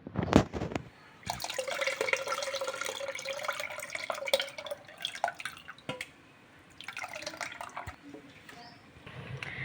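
Tamarind water pours and splashes steadily into a pot of cooked dal for pappu charu for several seconds, with brief pauses and a second pour later, close by.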